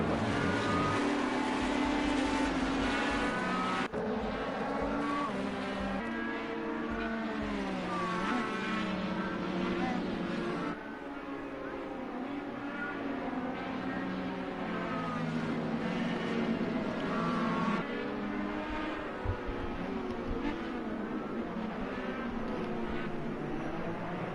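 IndyCar race cars scream around the Sonoma circuit in Project Cars 2, high-pitched engines rising and falling through gear shifts, several cars droning close together continuously for the whole stretch.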